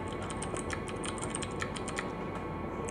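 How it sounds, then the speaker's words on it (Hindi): Fingers tap on a computer keyboard in a quick, irregular stream of light clicks, heard close but at a soft level over faint background noise, with no voices. "जहाँ तक आपका जो टाइपिंग है वहाँ से ये टाइपिंग पूरी क्लियर आनी चाहिए"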